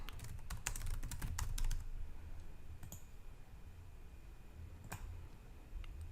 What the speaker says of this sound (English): I'll type in your own business